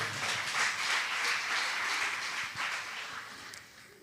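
A church congregation claps during a pastor's sermon, a soft, fairly distant patter of many hands that holds steady for a few seconds and then fades out.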